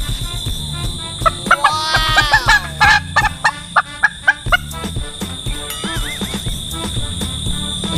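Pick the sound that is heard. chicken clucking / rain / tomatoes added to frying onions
chicken clucking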